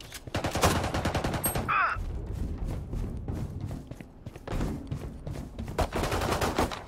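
A Frenzy pistol fires in Valorant as rapid, dense bursts of close, sharp gunfire, broken by a short metallic swish and brief lulls, with soft footstep-like thuds in between.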